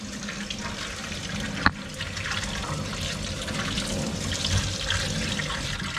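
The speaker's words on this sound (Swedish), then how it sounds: "Först får man tvätta äggen." Eggs are washed under a running tap in a rural Thai kitchen, with a steady stream of water splashing and hissing throughout and one sharp knock partway through. There is no talk.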